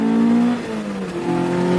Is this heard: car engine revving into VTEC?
yes